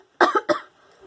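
Two sharp, close coughs in quick succession from a person, loud and dry, followed by quiet with faint background sound.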